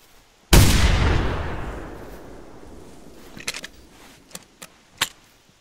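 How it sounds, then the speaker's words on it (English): One loud, close rifle gunshot in the hunting game theHunter: Primal, with a long rolling echo trailing off across a mountainside meadow, followed by a few faint scattered clicks and thumps. "With a gunshot."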